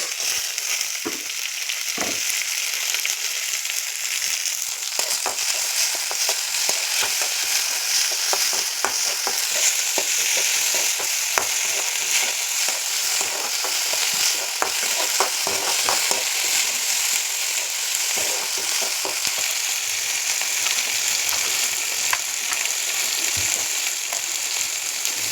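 Tomato frying in a pan gives a steady, dense sizzle with scattered stirring clicks and scrapes, running loud and unbroken throughout with no voices.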